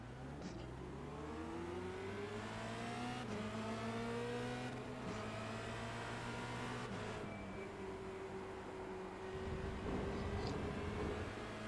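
Formula Renault 2.0 race car in iRacing at Hockenheimring launching and accelerating hard, engine note climbing through several gear changes with rising harmonic sweeps, loud and steady throughout.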